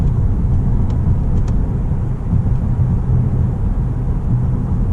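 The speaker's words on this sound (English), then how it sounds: "the engine, you can tell it's coming all from the front, and it's not the loudest, but it's perfect" A Lexus GS 200t turbocharged sedan engine accelerating drones steadily with a strong low rumble throughout, heard from inside the car, with faint clicks above it and no voices.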